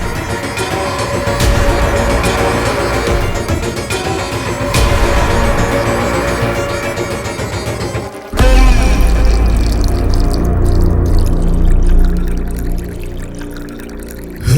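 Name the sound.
water sound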